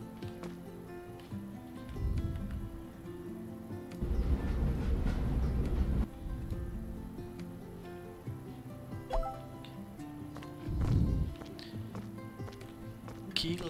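Wagon rolling through a train wash facility in the game Train Station Renovation, a low rumbling mechanical drone with louder surges at several points, accompanied by dripping and splashing water.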